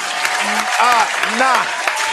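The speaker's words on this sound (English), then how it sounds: "You don't stop this clapping." Steady clapping applause fills the background during a gaming livestream, dense and continuous at moderate loudness, with a voice-like tone rising and falling over it.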